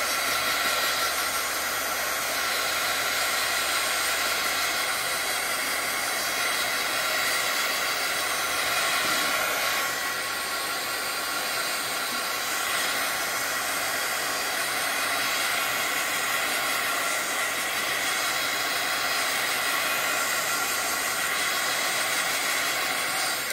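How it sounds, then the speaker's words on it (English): A heat gun blows hot air steadily over freshly painted craft paper, a loud continuous hissing roar that holds without pause and with no talking. "we're gonna hit this guy with the heat gun"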